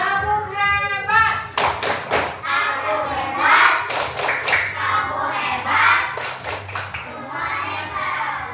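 A classroom of children performs the 'tepuk hebat' clapping chant, sharp rhythmic claps and thumps in bursts alongside chanted voices, loud and close throughout.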